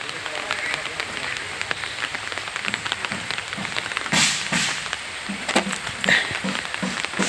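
Rain falls steadily, making a dense, even hiss with patter on surfaces, and a few louder gusts or splashes stand out near the end. The rain is easing off.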